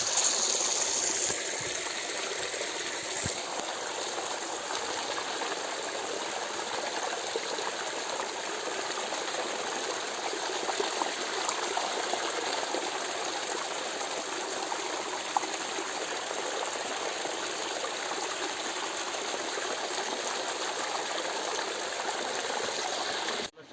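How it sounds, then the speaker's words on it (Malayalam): A clear freshwater stream flows in a natural setting, making a constant broadband rush and trickle that holds steady and close throughout, with no voices. "നല്ല ശുദ്ധജലമാണ് അവിടുന്ന് ഒഴുകി വരുന്നത് നമുക്ക് കാണാം ഇങ്ങനെ ഒഴുകി ഒഴുകി ഇങ്ങനെ"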